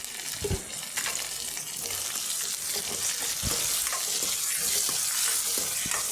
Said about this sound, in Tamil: அந்த தக்காளியை போட்டு மறுபடியும் வதக்கிக்கலாம்